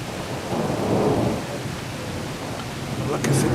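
A continuous thunderstorm with deep rolling thunder over steady pouring rain, loud and close, the rumble swelling and easing without a break.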